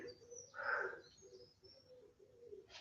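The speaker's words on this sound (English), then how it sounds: "And the birds were singing." Birds singing outdoors during a live Pilates fitness session, with a brief louder chirping burst near the start over faint background calls and low murmur.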